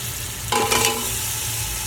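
Potato pieces tipped into a pan of frying spice mix, setting off a sudden loud burst of close sizzling that then settles into a steady hiss.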